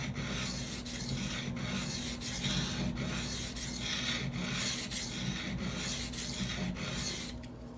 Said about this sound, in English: So this is the 240 grit. I'm just going to use the silicone carbide stones.